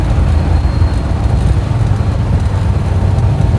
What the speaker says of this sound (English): you don't need an exhaust that's a loud one, because when you get on it, it's loud